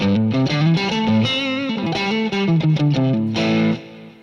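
Electric guitar through a distorted amp with the bass turned up to maximum plays a loud melodic line with a fuller, bass-heavy tone, then lets the final note ring out.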